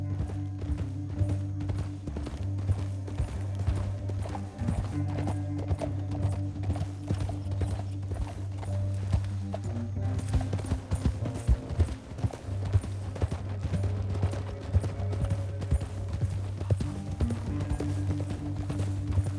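Steady clip-clop of horse hooves trotting in an even rhythm over a low droning hum in the video game Red Dead Redemption 2, continuing throughout without voices.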